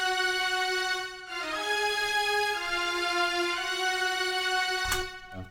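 A 30-piece string section from an East-West Quantum Leap sample plugin sustains a smooth, harmonically rich melody, shifting notes every second or so and ending in a short bright swell, with no voices present.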